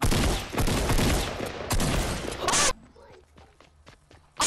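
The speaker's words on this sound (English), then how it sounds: "I hear another pistol." Pistol shots in a Fortnite Battle Royale match crack out as a dense, loud burst of rapid gunfire mixed with footsteps, then give way to a quieter stretch before one more sharp blast at the end.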